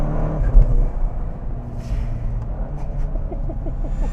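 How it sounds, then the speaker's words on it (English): A tuned VW Alltrack wagon under acceleration, its engine rumbling steadily with turbo boost and intake noise, heard from inside the car for a few seconds without talk. "A ton of intake noise, lots of boost noise here."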